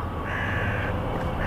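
A crow caws twice, a drawn-out harsh call then the start of another, fairly distant over steady outdoor background noise.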